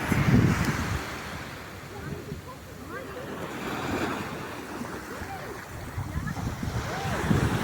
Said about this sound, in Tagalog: ay alon ang balod mabalod ang dagat